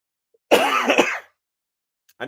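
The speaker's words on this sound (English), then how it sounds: "Wasn't coughing this much last time." A single close throat-clearing cough bursts out loud for under a second, then silence, with a faint onset of another sound at the very end.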